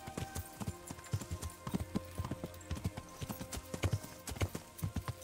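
Horse hooves clip-clop in a steady rhythm while riding in the medieval video game Kingdom Come: Deliverance, close and clear over a low ambient bed, with a faint whinny possible.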